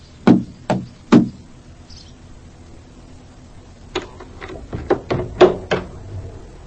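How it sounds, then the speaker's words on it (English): Knocking on the front door of a council house whose bell is broken: three loud, evenly spaced knocks, a pause, then a faster run of six or seven raps, close by with no talk. "You have to knock."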